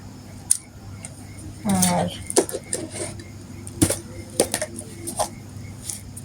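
Chopped onion, green chilli and coriander are mixed for piyaju, making scattered clinks and scrapes against a bowl or utensil in irregular bursts, fairly close, with a brief voice.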